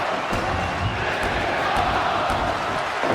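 A wrestling arena crowd roars and cheers steadily throughout, a dense wash of many voices with no single caller standing out.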